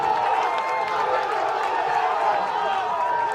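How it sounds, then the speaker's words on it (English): A baseball crowd at Cleveland Field swells into a loud, steady roar during a college tournament game, sustained and dense throughout with no break. "You can hear the crowd getting loud here at Cleveland Field."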